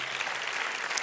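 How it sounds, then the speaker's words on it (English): Audience applause at a business conference session, a short, dense burst of clapping from a room full of people, steady and fairly close throughout. "Yeah, you can clap for that."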